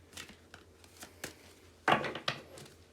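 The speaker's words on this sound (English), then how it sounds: "Okay, I won't do extreme shuffling." Tarot cards are shuffled by hand in a few soft riffling bursts, with one louder, fuller shuffle near the end, close up and alone.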